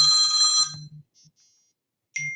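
A phone rings with a bright electronic trill that stops midway, then briefly starts again near the end, close and clear against otherwise quiet surroundings.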